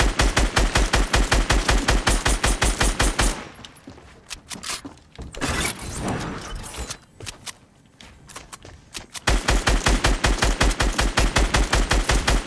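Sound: gunfire in the video game Fortnite

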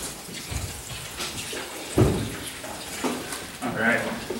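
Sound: water added to cannabis for bubble hash

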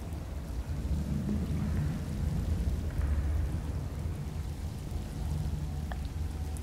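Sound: rain in video game Skyrim

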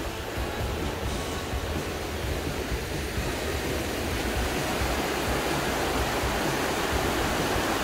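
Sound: rushing river water

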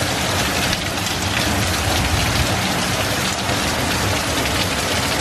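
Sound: heavy rain downpour with thunder

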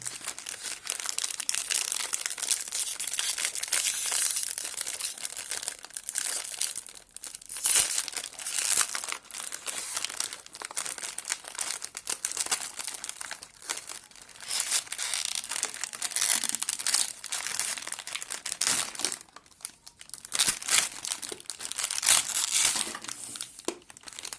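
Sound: opening the wrapper of a Hellema Crunchies biscuit package

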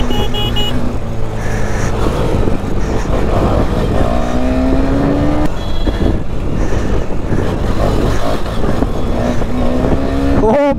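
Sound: Kawasaki H2R motorcycle engine revving

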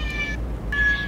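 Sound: cat meowing

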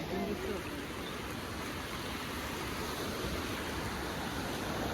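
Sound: flooded river water flowing

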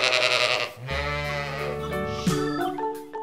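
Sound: sheep bleating

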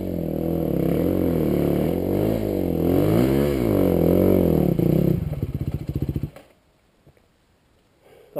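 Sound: off-road motorcycle revving on a trail

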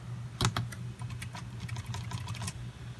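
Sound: typing on a replacement ThinkPad T470s laptop keyboard

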